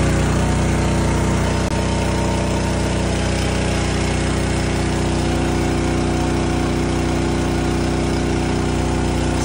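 An engine-driven water pump pumping out a boat sunk in a storm, a loud steady droning engine hum running unbroken and close, with no talk.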